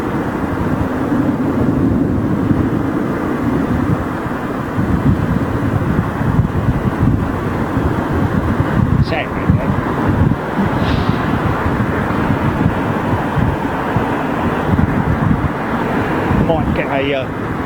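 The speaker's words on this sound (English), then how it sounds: "Boeing 747 just about to lift off. Out of 27 left before." Boeing 747 jumbo jet lifting off from runway 27 left at Heathrow Airport, a steady broad engine roar heard from a distance over outdoor wind buffeting, with no talking.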